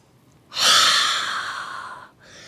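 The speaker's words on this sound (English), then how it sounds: "Exhale through the mouth." A long, breathy exhale through the mouth during a yoga practice, loud and close, lasting about a second and a half and fading gradually before a softer breath follows.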